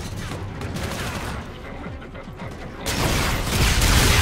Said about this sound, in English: Get the old rocket launcher out.